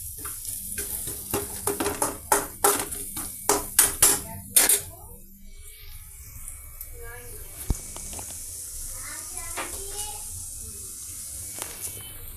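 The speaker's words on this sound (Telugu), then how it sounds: "పెద్దల్లిపాయ పీసెస్, కర్రీ లీవ్స్ అన్నీ బాగా మిక్స్ అయ్యి ఫ్రై అవుతున్నాయండి" Onion pieces and curry leaves with salt and turmeric fry in a pan: a run of sharp spoon-scraping stirs over the first few seconds, then a steady close sizzle with a few soft clicks.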